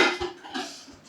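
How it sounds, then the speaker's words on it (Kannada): Dishes clattering as they are washed by hand in a village home kitchen, a few short clinks of pots and utensils, close and fairly clear, with no voices. "ಅಲ್ಲಿ ನಮ್ಮ ಮಾಮಿ ಪಾತ್ರೆ ತೊಳಿತಿದ್ದಾರೆ."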